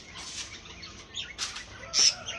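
Pet pigeons flap their wings in short bursts, a few soft fluttering rushes close by with faint bird sounds between them and no talking.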